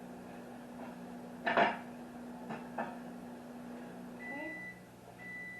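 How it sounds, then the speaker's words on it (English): A microwave oven softens a tablespoon of butter with a steady low hum, a couple of sharp clunks early on and short electronic beeps near the end. A voice says a single brief word. "I'm going to nuke it for about 8 seconds"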